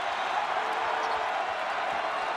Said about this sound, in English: Crowd to its feet here in Omaha.